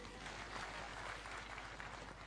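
A crowd claps and cheers in a dense, steady burst throughout, filling a large gathering at the Hustler Fund first anniversary celebration attended by President Ruto.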